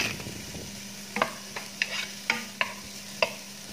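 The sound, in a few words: sautéing fennel and garlic in a pan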